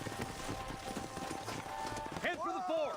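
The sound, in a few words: horses' hooves clip-clopping in Red Dead Redemption video game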